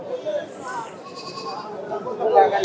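Goats bleating at a busy Bangladeshi cattle market, several wavering calls rising over the crowd's murmur, with someone talking nearby.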